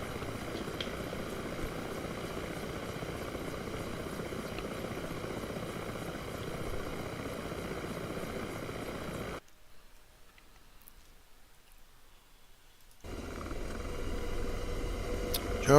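An Apache attack helicopter in the DCS combat flight game, its steady rotor and engine drone filling the scene, cutting out briefly to near silence before returning at full strength.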